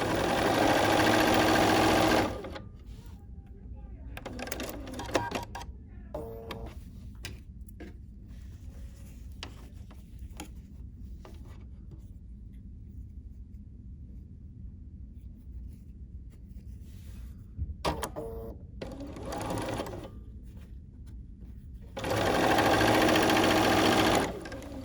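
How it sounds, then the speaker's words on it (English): A sewing machine stitches quilting fabric pieces together, its quiet, steady whir running in several stretches with brief pauses between, louder rumbling bursts at the start and end. "I'm just going to sew all 5 pieces together."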